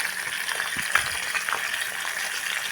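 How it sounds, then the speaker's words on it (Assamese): Borali fish frying in a pan, a steady close crackling sizzle with faint stirring clatter, continuous throughout. "এতিয়া বৰালিকেইটা ফ্ৰাই কৰি লওঁ"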